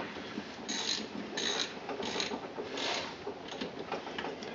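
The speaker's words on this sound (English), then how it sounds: "I'm going to use my wrench and tighten them down to just get them tight with the wrench or with the ratchet" Ratchet wrench tightening bolts on the pony motor of a John Deere 820 tractor, heard as a close run of quick clicking bursts in several strokes with no talking.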